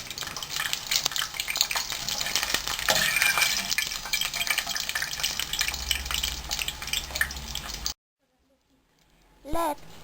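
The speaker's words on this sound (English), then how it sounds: "In a pan, add oil and put the plantain until it is fried." Plantain frying in oil in a pan, a dense close crackling sizzle with occasional stirring, heard for most of the stretch before it cuts to near silence and a brief tone.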